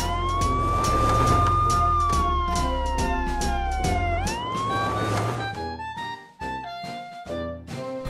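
A loud police SUV siren wails and sweeps up and down in pitch, close and continuous, then shifts to a different warbling tone near the end.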